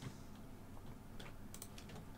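Quick clusters of mouse clicks switching the lights in Cooking Simulator, crisp and close, over a low constant hum with no talking.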